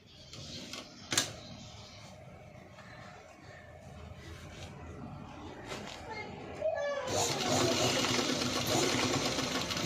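A sewing machine runs steadily, stitching the lining of a padded blouse, with a quiet voice underneath and the machine growing louder and busier in the final few seconds.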